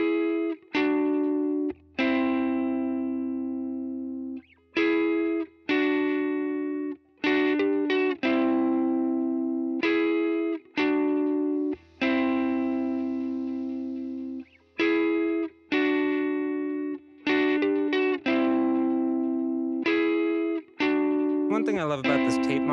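An electric guitar plays through the UAFX Starlight Echo Station on its Tape EP-III echo model, giving a series of loud sustained chords and notes with pauses between them and echo trailing after each one, with no talk.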